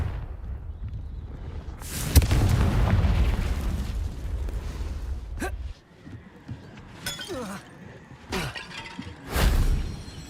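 Blast of the Confringo fire spell in Hogwarts Legacy, a loud bursting explosion followed by crackling, with further sharp magical bursts and pops at intervals across the fight.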